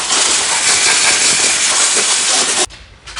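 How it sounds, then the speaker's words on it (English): An air compressor nozzle blows dirt off a Tuff Torq K46 transmission on a Simplicity mower, giving a loud, close, steady hiss that cuts off abruptly near the end, followed by a brief quieter puff. "I'm going to take this time to blow some of that off with the air compressor."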